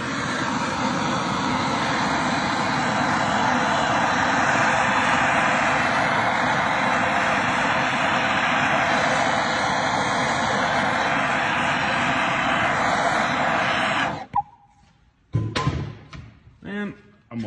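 A heat gun warms the underseal on a car with a loud, steady blowing roar that holds for about fourteen seconds, then cuts off, followed by a few scattered knocks and clatters.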